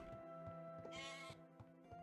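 Sheep in the video game Cornerstone: The Song of Tyrim bleat in short, wavering cries over a steady game tone, one louder bleat standing out in the middle, with no talk.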